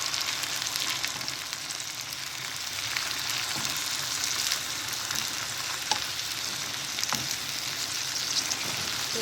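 Onions and green chillies fry in a pan, a dense continuous sizzle held close and loud throughout, with a few faint stirring ticks and no talk.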